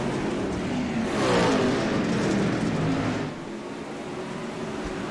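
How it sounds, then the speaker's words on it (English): Open-wheel race cars at Fairbury charge past on green-flag racing, a loud roaring engine wash that swells to a peak and then drops back to a steady distant drone. "green flag racing here at Fairbury"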